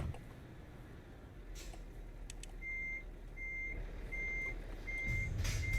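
In the Euro Truck Simulator 2 driving game, a truck's reversing alarm gives five or six even, steady beeps, moderately loud over a low engine rumble, with a brief hiss near the start.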